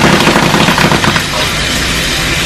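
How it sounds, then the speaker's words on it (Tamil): Mashed potato sizzles and crackles on a hot tawa, a loud, dense, continuous popping and spitting like firecrackers, heard alone with no talk. "தீபாவளி பட்டாசு மாதிரி வெடிக்குது."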